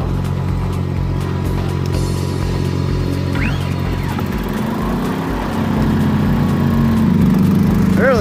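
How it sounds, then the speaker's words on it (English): Laser screed machine engine running at a large concrete pour, a loud, steady close diesel drone and rumble that continues without a break, with a faint whine rising in the background. "There's the laser screed coming. get this bridge fired up."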